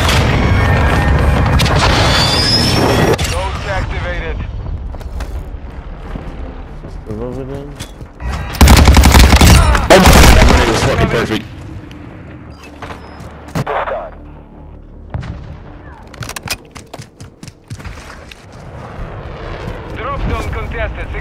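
Airstrike and gunfire in a Call of Duty: Modern Warfare II multiplayer Drop Zone match on Farm-18: heavy booming blasts and rattling volleys of shots, loud and close, with a dense roaring burst midway and radio-style voice callouts mixed in.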